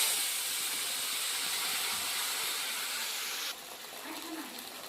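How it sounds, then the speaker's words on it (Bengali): Spice paste sizzling in hot oil with whole dried garam masala, a loud, steady frying hiss that drops slightly near the end, with no talking. "এবার আমি এতে দিয়ে দিচ্ছি যে মশলাটা পেস্ট করে রেখেছিলাম সেই মশলাটা"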